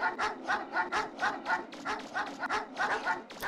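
Several dogs in the video game Mega Man Legends bark and yip in a steady, repeating rhythm, close and fairly loud, with no talk over them.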